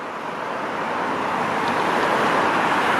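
Traffic roar on McCowan Road in Scarborough, Toronto, with a truck among the passing vehicles, a steady, fairly loud wash of road noise that holds without a break.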